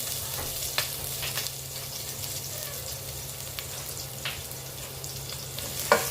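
Garlic sautés in a pan for cansi, a steady close sizzle under intermittent scraping and clinks of stirring, with no voices.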